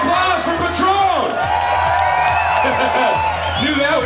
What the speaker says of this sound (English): How about a round of applause for Patron?